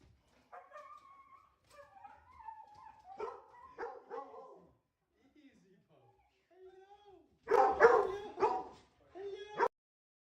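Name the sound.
small dog howling and barking in greeting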